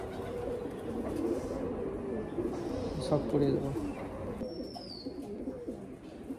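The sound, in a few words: pigeons cooing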